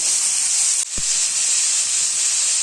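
Onions sautéing in a pan for a pepper squid dish give off a steady, loud broadband sizzle and hiss with a brief dip near the start, with no voice over it.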